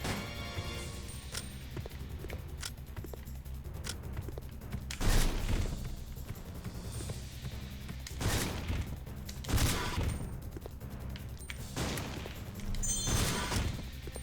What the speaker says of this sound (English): that was quite possibly the most ineffective feeling shotgun